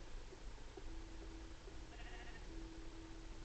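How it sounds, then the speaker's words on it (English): Sheep bleating in the Minecraft video game, a couple of soft, thin bleats set low under steady background noise. "Sheep!"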